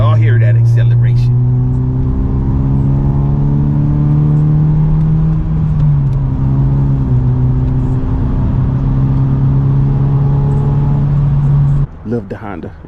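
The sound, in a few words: motorcycle accelerating, loud exhaust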